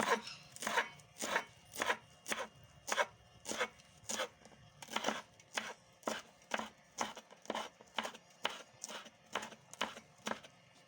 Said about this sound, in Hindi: हरा धनिया काटेंगे।